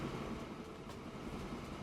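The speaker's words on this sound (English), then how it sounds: "Probably just waiting on an iron ore train maybe. Yeah, there's one coming out now with some iron ore on it" Steady rolling rumble of an iron ore train running on rails in the video game Transport Fever 2, a continuous mid-loud rail and wagon noise with no pauses.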